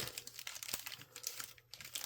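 Trading card pack wrapper being handled and torn open, a brief run of crinkly plastic crackles and rustles with one sharper tear, close and fairly quiet, no talking.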